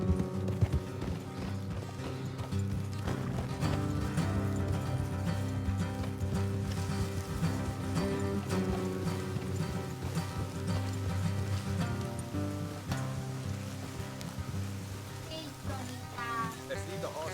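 Horse hooves clip-clop steadily on a trail in the Red Dead Redemption 2 video game, continuous and close beneath a dense layer of game music and ambience, with a brief whinny near the end.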